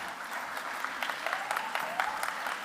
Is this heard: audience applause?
yes